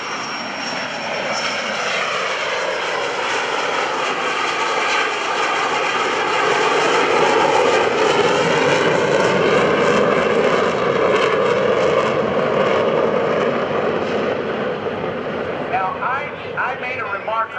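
A McDonnell Douglas A-4 Skyhawk jet makes a carrier-configuration pass at an airshow, its engine roar swelling to a peak and then slowly fading, with a voice speaking over it.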